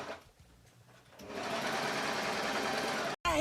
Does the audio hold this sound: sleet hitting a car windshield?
no